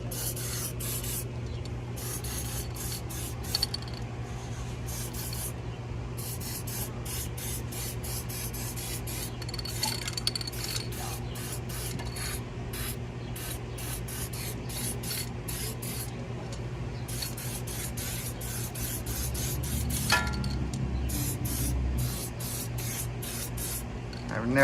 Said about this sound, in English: Let me spray.